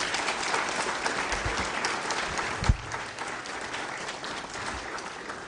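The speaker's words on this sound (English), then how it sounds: "let's clap for ourselves" A seated conference audience at a panel discussion claps together in sustained, dense applause, with one sharper thump partway through and the clapping continuing to the end.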